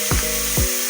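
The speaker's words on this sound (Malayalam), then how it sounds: "ചെറുതായിട്ട് അരിഞ്ഞ് അതൊന്ന് നന്നായി വഴണ്ട് വരട്ടെ" Finely chopped onions sautéing in a pan for paneer butter masala make a steady sizzle, cut by two quick scrapes of a spoon stirring them.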